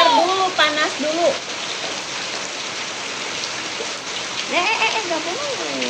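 Steady rain hisses throughout, a dense, even wash that persists while voices talk over it in short bursts near the start and end.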